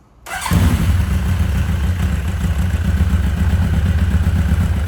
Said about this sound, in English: the bike will start if we put the choke on